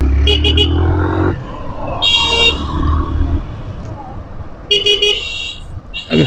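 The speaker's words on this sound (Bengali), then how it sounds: "জন্য একটু হালকা ট্রাফিক জ্যামে আটকে গেলাম" Car and truck horns honk repeatedly in a traffic jam at the Akhaura rail crossing. Loud toots stand out over the rumble of idling engines and road noise.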